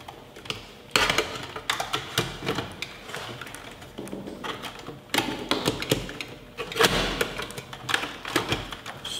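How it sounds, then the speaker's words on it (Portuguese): A hard drive is fitted into a PC case, with a series of close plastic and metal clicks, taps and clunks in an irregular rhythm as the drive is pushed into its bay. "Estou fazendo encaixe aqui do HD."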